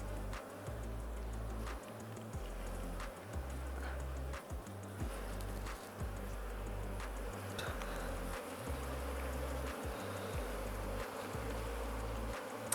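Honey bees swarming around an open beehive being inspected, a dense continuous buzz close by, with faint scattered ticks and knocks throughout.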